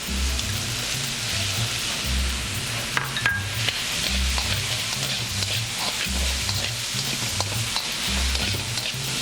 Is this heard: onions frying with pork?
yes